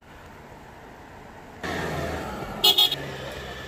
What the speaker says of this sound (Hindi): ये देखें जी गाड़ी निकल पड़ी है जी सेलिब्रेशन के लिए